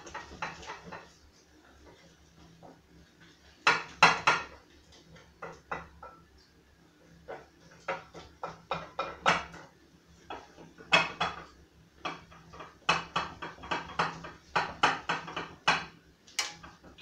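Chocolate peanut butter brownie batter is stirred in a bowl with a spoon, producing irregular clinks and scrapes against the bowl that come in quick clusters. The sounds are close and fairly quiet, with no talk.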